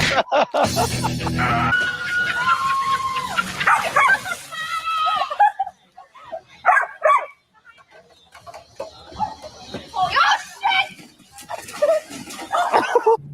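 A dog barks and whimpers in short bursts among excited voices, with stretches of near quiet between the yelps.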